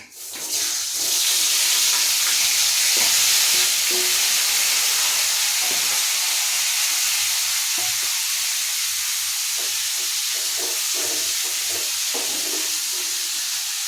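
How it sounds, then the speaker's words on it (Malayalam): Bilimbi pieces hit hot oil in a pan and sauté with a steady, loud hiss and sizzle, close by, with occasional stirring clinks and no voices. "നല്ലപോലെ ഒന്ന് ഈ എണ്ണയിൽ ഇതൊന്ന് വഴണ്ട് വേണം."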